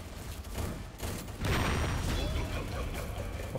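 Gunfire from a shooting video game bursts through a busy firefight, a heavy blast swelling about midway amid scattered rapid shots, under an excited voice talking over the action.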